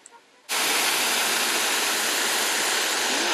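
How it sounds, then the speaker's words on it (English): A waterfall at a 19th-century castle in Nice, France, switches on abruptly as a loud, steady, broadband rush of falling water that continues without a break. "Have a waterfall. at a castle."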